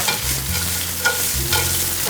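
Julienne carrots, bell peppers, green beans and snow peas stir-fried over quick, high heat for pancit canton, a close, steady sizzle broken by a few scraping tosses of the spatula, with no voices.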